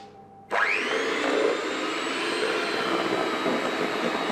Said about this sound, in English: I'm going to give that a good whisking with the electric hand whisk